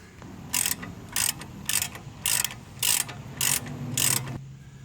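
A ratchet snugs 18 mm bolts on a 2013 Chevrolet Malibu passenger-side CV axle, sounding as seven evenly spaced bursts of rapid clicking that are close and crisp, followed by quiet.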